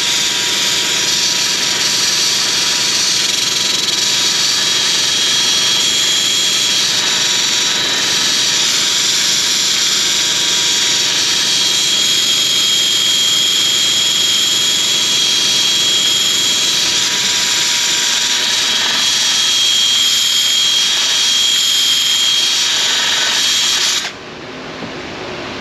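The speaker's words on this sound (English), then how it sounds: "Need to sand off some of this boogered up area right here. Get at it with a big flap wheel." Big flap wheel on a grinder sanding a damaged frame bolt area on a Ford Transit 3.7, a loud sustained high-pitched whir with slight variations, cutting off abruptly near the end.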